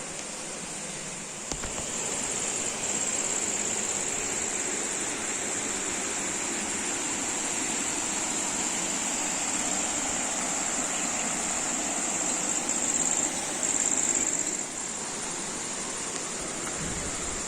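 A river flows behind a hillside temple, a steady broad rushing wash of water that stays constant throughout with no voices.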